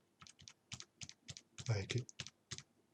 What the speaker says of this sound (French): avec les touches du clavier